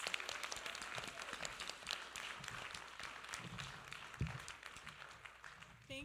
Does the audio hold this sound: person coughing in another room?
no